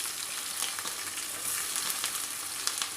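Onions frying in hot oil for sabudana khichdi, a steady close crackling sizzle with faint stirring taps, no voices.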